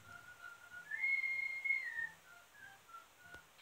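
A steady whistled tune from the video game Godus, one sustained clear note that slides and holds for about a second, then fainter repeated tones, quiet and alone in the mix.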